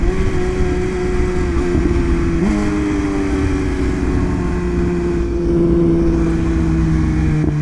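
An S1000RR motorcycle cruising at night gives a loud, steady engine drone with wind rush. Its pitch drops once after a shift and then holds even and close throughout.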